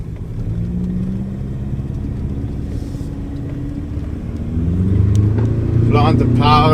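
A 2021 Ford Ranger Thunder ute engine picks up from a steady drone into a louder, rising pull as the throttle opens. Someone talks over it, and the engine swells near the end.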